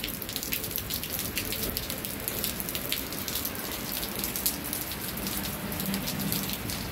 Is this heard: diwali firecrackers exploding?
no